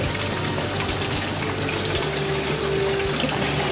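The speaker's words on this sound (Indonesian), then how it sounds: "Kita masukkan air cuciannya lagi ya." Water pouring into the tub of a Panasonic NA-W76BBZ2 7.5 kg twin-tub washing machine for rinsing, a loud steady gushing rush that continues without a break throughout.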